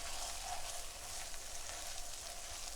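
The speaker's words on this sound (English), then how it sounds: "You can see that it's starting to fry nicely." Chorizo fries in a pan with a steady, soft, hissing sizzle and faint crackles throughout, fairly quiet and unbroken.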